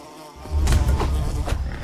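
Bees buzz around a skep in the fantasy tavern game Ale & Tale Tavern, a loud close droning hum that swells after a quiet start and wavers steadily.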